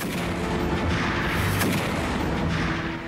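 Cannon fire from a sailing warship of Nelson's fleet pounds into the French flagship in a sea battle, heard as a dense, loud, continuous roar of booming blasts.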